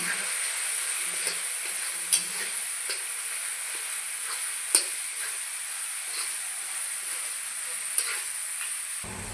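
Turmeric, chili powder and cumin powder fry in a pan, a steady, close hiss of sizzling oil with a few faint clicks from stirring.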